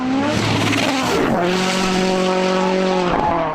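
Loud rally car engines rev and roar close by on a gravel rally stage, the pitch climbing and dropping through gear changes, with a hint of tyre noise.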